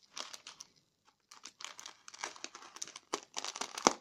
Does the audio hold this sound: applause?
no